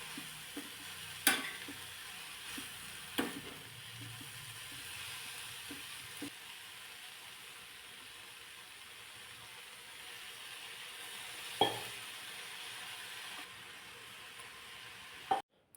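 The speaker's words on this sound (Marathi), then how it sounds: "व्यवस्थित चांगली भाजी परतून घेतली" Mustard greens cooked with lentils, a traditional village leafy-vegetable dish, sizzle quietly in a pan while a spoon stirs them. A few sharp scrapes and clinks rise above a steady, soft frying hiss, with no voices.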